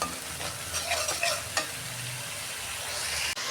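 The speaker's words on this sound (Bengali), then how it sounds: "ঝাল লঙ্কার গুঁড়ো অল্প ভালো করে কষাবো মশলা কাঁচা গন্ধটা যাতে চলে যায়" Turmeric, hot chili powder and other spices fry in oil in a pan for a vegetable egg curry. A soft, steady sizzle runs throughout, broken by a few scraping stirs early on and a brief clack near the end.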